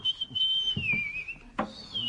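A sergeant whistles a loud, wavering high tone in a long held stretch while walking up stairs, with faint footsteps beneath and a brief break before the whistle resumes.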